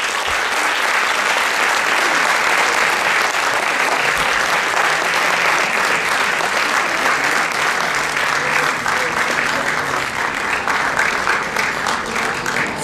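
Audience applause fills a Turkish women's choir concert, a dense, steady clapping that holds at full strength from start to finish with no break.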